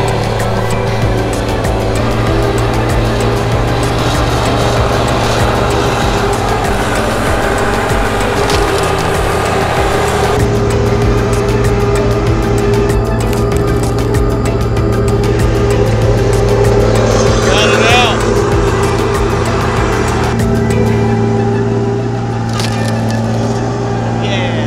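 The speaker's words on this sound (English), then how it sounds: "This time he's driving the Tigercat 720." A Tigercat 720 forestry machine cuts timber, with a loud, continuous diesel drone and cracking, splintering wood running throughout at close range.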